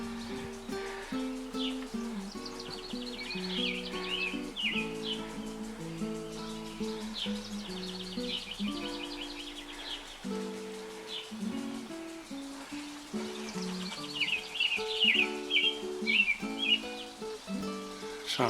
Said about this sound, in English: Sounds like we've got a bird singing a song here.